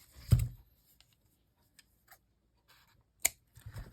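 Scissors snip off wrapped material after it is looped twice around to close an envelope, a sharp cut near the start and another crisp snip later, with faint handling between.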